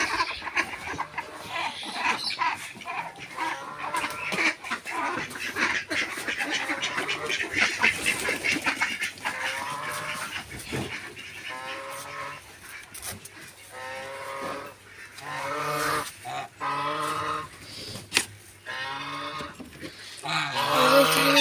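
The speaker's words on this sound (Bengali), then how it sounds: "দেখেন হাঁস ছাড়বো।" Domestic ducks on a homestead quack in a dense, loud chorus close by as they are let out of their pen after two or three days shut in.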